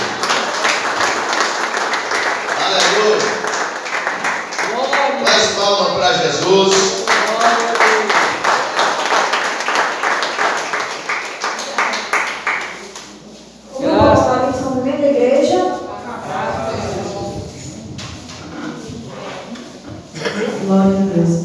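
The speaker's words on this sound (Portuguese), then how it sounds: "com palmas, bem forte para Jesus" A church congregation claps in strong, rhythmic unison for several seconds, then the claps grow looser and a loud clattering burst follows, with a voice speaking over the clapping at times.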